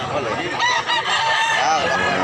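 A gamecock crows loudly and close at a rooster market in Mantalungon, Barili, Cebu, one long harmonic call filling the moment, with other fowl faintly clucking beneath it.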